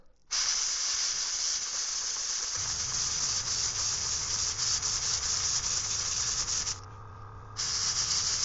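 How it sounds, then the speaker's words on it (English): An airbrush sprays metallic purple paint onto a 3D-printed rainbow trout fishing lure, giving a steady, close, loud hiss that runs almost nonstop and drops briefly near the end before resuming. "I put some metallic purple into our airbrush and we'll start adding our detail"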